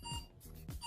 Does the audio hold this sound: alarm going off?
yes